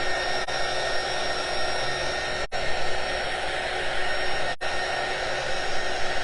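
Heat tool blowing hot air to set craft paint, a loud, steady whooshing blower hum with a few brief cutouts, running alone without talk.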